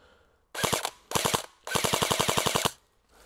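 An AS WAŁ Koer airsoft gun fires at outdoor targets in three quick bursts of rapid, sharp clicking shots, close and loud, with short silent gaps between them and no talk.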